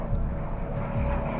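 Vintage propeller aircraft without mufflers roar past fast and low, about 20 to 25 feet overhead, during aerial filming for the 2008 film Valkyrie. The engines give a loud, continuous, close rumble throughout.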